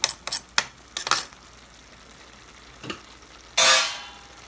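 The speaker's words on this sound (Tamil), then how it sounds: "நல்லா கிளறி விடணும். நல்லா கலக்கணும்." Minced meat with fenugreek leaves stirred in a pan: a few loud, clustered scraping strokes at the start, then quiet, then one more stroke and a final burst of hissing sizzle.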